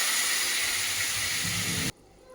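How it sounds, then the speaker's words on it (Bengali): Hot water poured into a pan of fried paneer and spice-cooked potatoes, a loud steady hiss and sizzle that runs close and continuous for about two seconds, then cuts off abruptly to near quiet. "ভেজে জলে ফুটিয়ে রাখা পনির আর গরম জলটা পনিরের মধ্যে ঢেলে দিলাম।"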